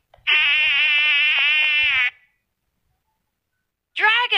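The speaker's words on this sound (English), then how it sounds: "Mosquito." A close, loud mosquito whine buzzes steadily for about two seconds, falls silent, then starts again briefly at the end.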